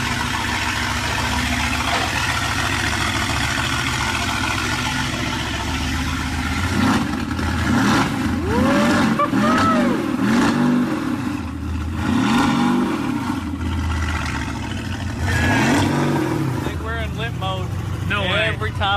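A rebuilt, previously wrecked Mercedes AMG GTS engine idles and then revs in rising and falling sweeps, loud and close, with a voice talking over the engine noise.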